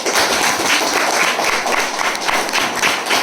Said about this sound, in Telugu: క్లాప్ ఇస్తారా ఒకసారి?